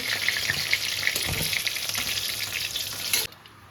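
Fish pieces fry in hot oil with a strong continuous sizzle and a few faint clinks, the crackling hiss cutting off abruptly near the end.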